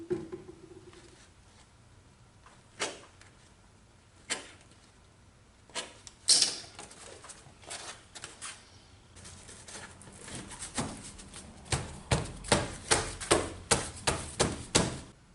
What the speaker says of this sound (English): And now I'll cut this out with a razor knife.